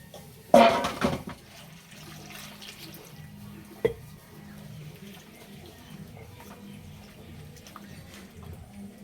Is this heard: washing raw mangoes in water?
yes